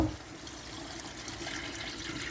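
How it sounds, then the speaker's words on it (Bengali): Hot water is poured into a pot of cooking beef curry, a quiet, brief, continuous splashing stream with no talk. "আমি এখন এটার মধ্যে গরম পানি অ্যাড করব"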